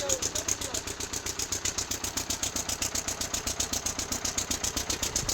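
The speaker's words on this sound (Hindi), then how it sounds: "ये अपना इंजन लगा के, सरकारी नहीं है ये अपना प्राइवेट इंजन लगा के हम यहाँ से पानी निकाल रहे हैं नाले के थ्रू" A privately owned engine pump draining standing water from a residential colony through a drain, chugging in a fast, steady rhythmic pulse nearby, with voices talking over it.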